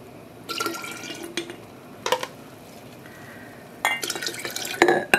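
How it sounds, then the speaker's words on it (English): Water pouring and splashing into a container used for dyeing yarn, in irregular bursts with short gaps between them, with a dull knock partway through and a louder, busier pour near the end. "Just some more water, and I think we're gonna fill this up almost completely."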